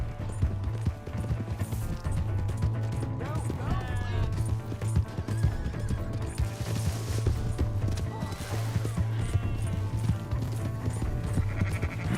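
Horse hooves gallop steadily and loudly throughout a Red Dead Redemption game scene, with occasional whinnies, game music and shouting characters layered over the rapid clip-clop.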